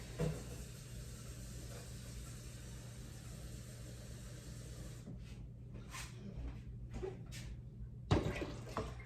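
Water streams quietly into a pressure cooker for several seconds, then stops, followed by brief faint clinks and a louder clunk near the end.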